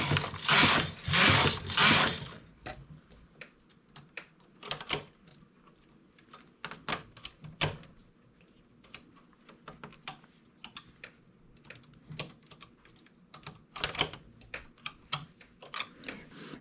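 A domestic knitting machine carriage is pushed across the needle bed while shaping raglan armhole decreases, giving loud clattering runs of rapid mechanical clicks in bursts, with quieter ticking handling between them.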